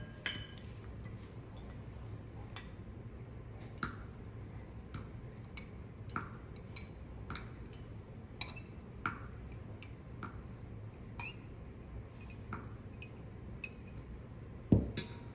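A spoon clinks and taps against a bowl while candy pieces are tossed in powder for homemade Pica Pica candy: light, evenly spaced ticks and chinks over a quiet background, close and soft.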